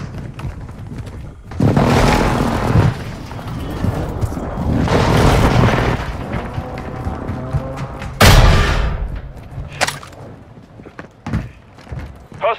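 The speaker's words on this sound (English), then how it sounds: "Hostile precision airstrike." A precision airstrike pounds the ground in Call of Duty Warzone on Ashika Island, with several heavy booming explosions arriving in separate waves and a sharp, close blast near the middle, among game noise and brief radio-style voice lines.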